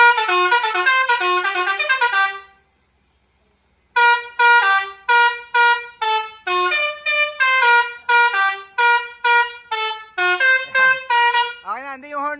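Car horn honking loudly and close, a long sustained blast, a pause, then a rapid series of short repeated honks.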